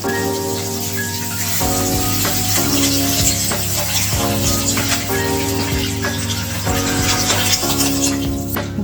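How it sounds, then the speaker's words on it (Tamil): Water comes to a boil in a pan on the stove for upma, a steady hissing, bubbling sizzle that runs at an even level throughout, close by with no talk over it. "இப்போ வந்து தண்ணி நல்லா கொதிக்குது"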